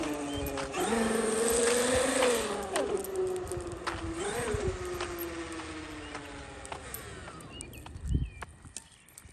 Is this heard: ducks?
no